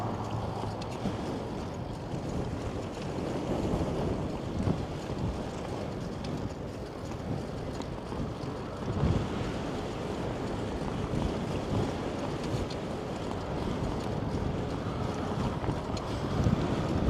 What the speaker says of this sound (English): it didn't feel so breezy in the city today, but out here it definitely is